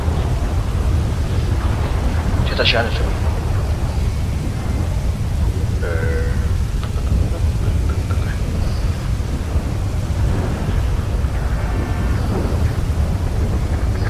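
Storm ambience in GTA V at night, a steady broad wash of rain and low thunder rumble running throughout, with a voice speaking briefly over it and a few short game sound effects.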